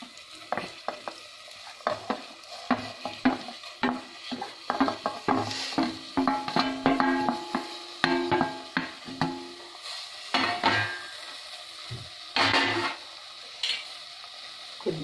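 Tomato pieces hitting a hot pan for matar paneer, sizzling as a spoon stirs and scrapes against the metal in repeated bursts, with occasional clinks of utensils and no voices.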